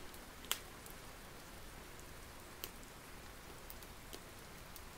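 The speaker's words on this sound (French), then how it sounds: "on va se permettre de mettre de la pluie." Ambient rain sound effect laid over a nighttime scene: a faint, steady hiss of falling rain with a few soft, scattered drop ticks and no voices.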